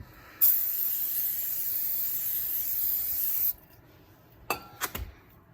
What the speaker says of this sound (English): spray it with brake cleaner just to kind of clean off if there's anything like oils or grime